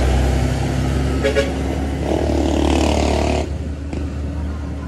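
Trucks and other traffic rumble past on a road on a rainy day. The engine noise is loud and steady, with brief swells as vehicles go by, and a voice speaks faintly over the traffic.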